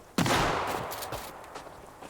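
A sudden loud shotgun blast in Sons of the Forest, followed by a decaying boom and fainter rattling noises as it fades.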